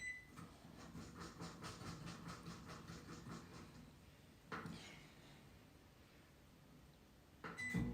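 A microwave oven runs at 80% power with an Ultra Pro cookware dish inside, giving a low steady hum and a faint rhythmic pulsing at close range, quiet throughout, and a short clunk comes near the end.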